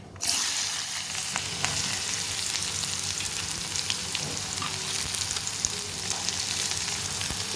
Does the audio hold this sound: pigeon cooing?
no